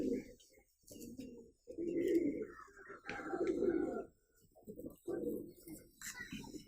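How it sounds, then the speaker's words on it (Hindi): Champion pigeons in Karachi give repeated low, throaty coos in rolling phrases, close by and fairly soft, with a little background chatter. "ये माशाल्लाह ये चैम्पियन कबूतर हैं"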